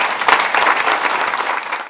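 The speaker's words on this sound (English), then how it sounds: "Please give them a very big round of applause." Crowd applauding staff members at an outdoor groundbreaking ceremony, a brief burst of dense clapping, loud and even, fading at the end.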